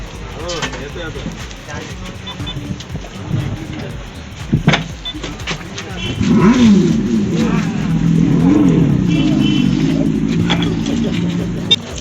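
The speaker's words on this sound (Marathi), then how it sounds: "बाईक कशी काढली जाते लाकडी फळी लावून" A motorbike rolls off a RoRo ferry over a wooden plank near Alibaug, its engine revving up and growing louder in the second half, with people talking nearby.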